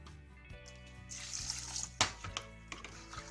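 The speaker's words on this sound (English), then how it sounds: "So I'll just add 1 cup of water in this." Water poured into a Borosil glass casserole holding soaking rajma, a steady trickle building to a brighter splash partway through, close and fairly quiet with no talk.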